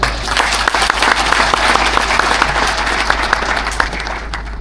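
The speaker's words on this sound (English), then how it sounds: "May we clap for Sidgo?" Audience applause at a Zambian farming business address by the president, a dense, sustained clapping from a large crowd that stays loud throughout, then eases slightly near the end.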